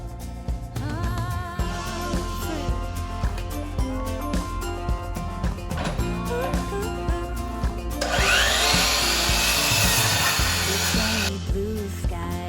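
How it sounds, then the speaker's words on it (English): A wooden ceiling joist being cut to length during off-grid home construction in North Idaho, with a loud power saw burst standing out from about eight to eleven seconds over a background of music. "Kim is cutting the ceiling joist to length"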